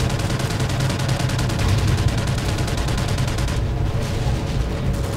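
Dense, continuous rapid gunfire with booming blasts, loud and unbroken throughout, like automatic weapons in Call of Duty: Ghosts.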